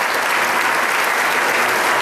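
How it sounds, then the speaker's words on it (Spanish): Steady, dense applause fills a school auditorium at a Mothers' Day festival and royal court coronation, a loud continuous wash of many hands clapping without a break. "vale el reconocimiento y el aplauso, ustedes lo demostraron"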